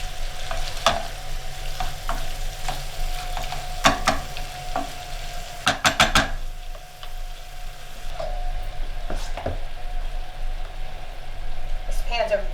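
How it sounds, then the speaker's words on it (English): Shrimp fry in a heavy, thick pan with a steady sizzle, broken by sharp scraping and clacking stirs of a utensil against the metal, close and loud, with brief talking over it. "Turn this up and just get these shrimp cooked."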